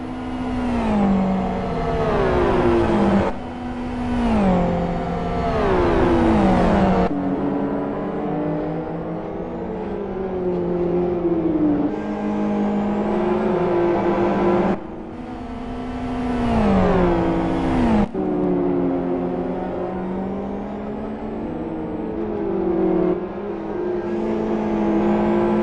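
GT1 race cars circling a track in the 2013 GT1 World Series, engines roaring loud and near as they rev up through the gears, drop pitch on downshifts and sweep past one after another without pause.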